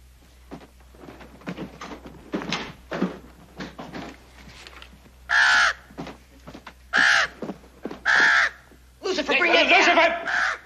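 A crow caws several times in loud, harsh bursts, the last one longer and ragged, following a stretch of people talking in an indoor scene.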